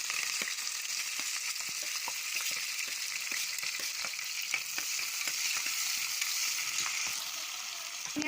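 Chopped onions sizzle and fry steadily in hot oil at the start of a country chicken curry, a continuous crackling hiss with occasional stirring clicks, close and even throughout.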